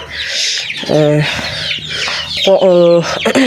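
Hens in a coop clucking close by, a continuous run of busy clucks with several drawn-out, rising squawks and cackles overlapping one another.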